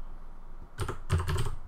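Keys tapped on a computer keyboard in two quick bursts of close, crisp clicks after a brief quiet lead-in, with no talking.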